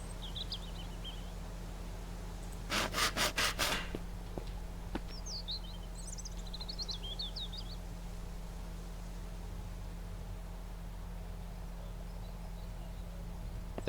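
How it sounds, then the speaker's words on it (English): Wooden planks are sawn in the survival video game Mist Survival, a quick run of about five sharp rhythmic strokes set against quiet ambience with faint bird chirps before and after. "now we can start sawing up the planks"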